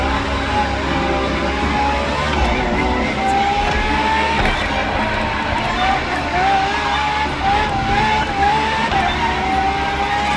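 A Ferrari FXX K, the track-only LaFerrari derivative, races in The Crew Motorfest, its engine holding a steady high whine that climbs through the gears beneath continuous narration.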